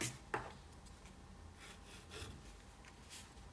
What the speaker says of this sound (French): On peut gommer ça également.